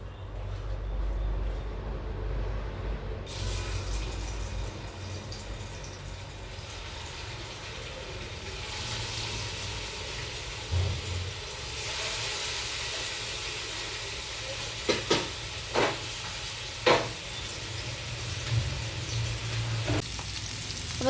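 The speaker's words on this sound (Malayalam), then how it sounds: "ഇനി നമ്മുടെ മീൻ വറുക്കാനായിട്ട് ഇതിലേക്ക് ഇട്ട് കൊടുക്കാം" Fish frying in coconut oil gives off a steady, close sizzle throughout, with scattered sharp pops and spits standing out in the second half.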